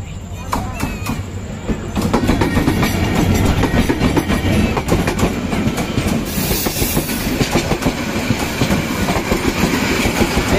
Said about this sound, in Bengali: কি আরেকটা ট্রেন আইতেছে?